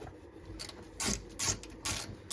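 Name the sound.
ratchet removing 12mm bolts from Volvo 240 driveshaft center carrier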